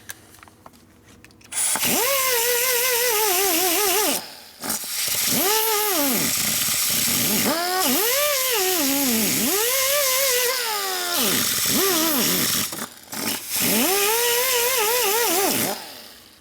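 A flap disc grinds metal flat during a 1952 Harley-Davidson Panhead four-speed transmission rebuild: a loud, close, whining drone that rises and falls in repeated bursts, with brief pauses between passes and no talking.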